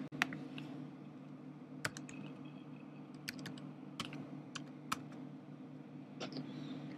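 A computer mouse clicks while someone works in a website admin page. A few sharp, faint clicks are spaced apart over quiet room noise, with no talking.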